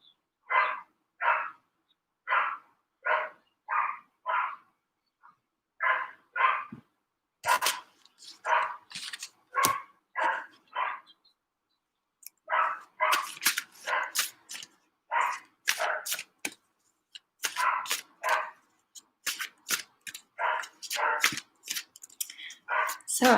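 Dogs bark over and over, loud and close, in quick bursts and clusters of sharp yaps that run throughout with only brief gaps.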